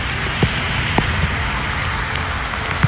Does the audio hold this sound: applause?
no